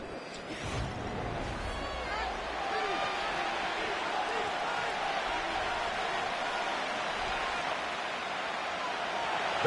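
A roaring stadium crowd in an EA Sports NFL video game, a steady loud wash of cheering that holds for the whole stretch, with a little crowd noise rising at the start and no clear voices above it.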